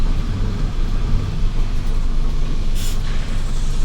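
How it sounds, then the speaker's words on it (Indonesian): Heavy, steady engine rumble from inside a moving Kembang Lestari bus, loud and close, with a brief airy hiss partway through. "Jalan-jalan naik bus."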